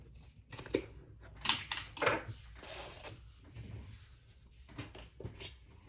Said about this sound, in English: I'm just going to trim that just a little